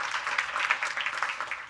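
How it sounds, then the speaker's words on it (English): An audience at a fireside-chat conference session applauding a guest: a brisk, continuous patter of many hands clapping at moderate volume, fluctuating slightly but never pausing, with no speech on top. "Let's give him a round of applause."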